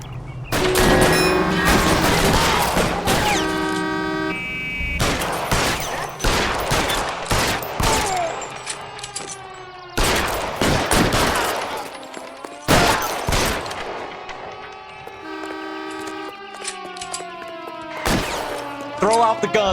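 A gunfight in L.A. Noire, with bursts of sharp gunshots and rapid fire, loud and close, separated by short gaps and ringing tails, with voices talking between volleys.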